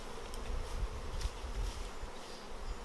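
Honeybees buzzing in a steady, dense drone as brood frames are shaken out of hives at an apiary, a continuous close swarm hum with no voices.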